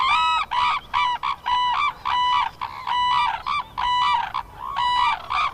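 Wild cranes in Japan call loudly and close, sending out repeated brassy, honking bugles in quick, rhythmic bursts, with calls overlapping like a duet.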